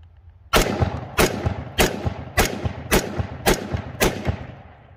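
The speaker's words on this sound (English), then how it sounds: "I'm just going to pull the trigger with this finger and a broken limp wrist" Seven sharp, loud gunshots from a Hi-Point JXP 10mm pistol held with a deliberately limp wrist at an outdoor range, evenly spaced about half a second apart, each crack ringing out before the next.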